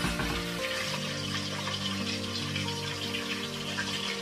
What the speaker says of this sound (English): Gradually you add water into the beans.